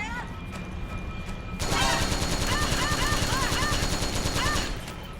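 A weak gun firing in Metal Gear Solid 4, a rapid run of shots that swells after a quieter start and keeps going beneath music and ambient battle noise.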